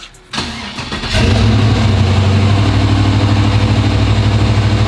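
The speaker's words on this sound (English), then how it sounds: "let's turn it on so you guys can see the screen." A procharged 6.2 engine in a C10 Squarebody truck cranks briefly, catches and settles into a loud, steady, rumbling idle close by, with no talking.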